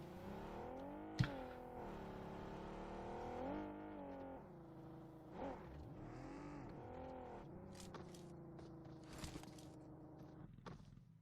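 A car in the PUBG Mobile game engine drones along with rising and falling revs, moderately loud and steady, punctuated by a few sharp clicks and knocks.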